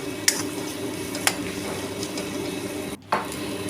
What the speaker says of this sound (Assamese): আলুখিনি যেতিয়ালৈকে কেৰাহীখনত লাগি নধৰে তেতিয়ালৈকে মই ভাজিম।